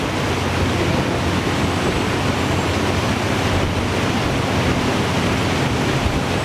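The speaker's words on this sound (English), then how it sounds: "That's steam." A loud, constant hiss of rushing steam from the steamboat Natchez fills the whole stretch, broad and unchanging like a strong jet of vented vapor.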